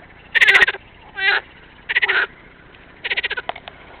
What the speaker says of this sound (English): I want to get that fucking frog and bring him home